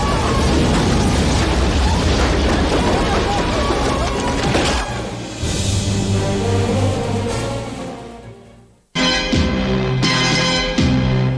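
Bomb blasts in a James Bond film scene: heavy, roaring explosions rumble loudly and fade, then the sound cuts out abruptly before a fresh burst of booms and crackling debris.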